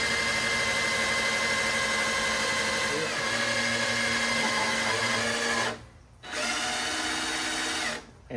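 An electric primer fuel pump runs on an engine fitted with a mechanical fuel pump, giving a steady, close whirring whine with tonal hum. It cuts out briefly twice near the end.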